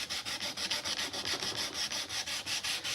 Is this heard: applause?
no